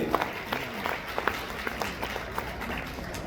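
Applause for a special guest at a Sangini women's community gathering of a Jain social group, a steady crowd clapping at moderate distance with scattered sharper claps and some voices mixed in.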